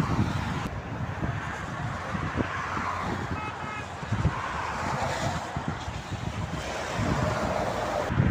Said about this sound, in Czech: Dneska trochu fouká, tak to bude dobře slyšet.